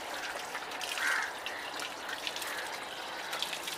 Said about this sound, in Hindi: अभी पानी भरते हैं और शंकर के लिए लेके जाते हैं।